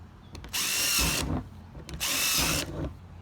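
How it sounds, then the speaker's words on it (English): A power drill whirs in two loud bursts of about a second each, drilling holes in a yard waste container, with quieter gaps between, close to the microphone. "just take a drill and drill holes in"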